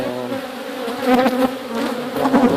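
Honey bees buzz during a backyard hive inspection of a large multi-box hive, a dense, close swarm drone that swells and wavers in intensity throughout, with no voices.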